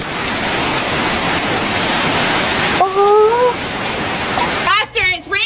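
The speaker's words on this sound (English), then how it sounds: "it's raining really bad" Heavy rain pours outside as a dense, steady roaring wash close by, loud throughout, with a dog whining briefly and someone speaking at the end.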